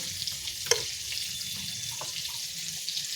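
Rice sizzles and fries steadily in hot refined oil, a constant close hiss with a few soft stirring knocks.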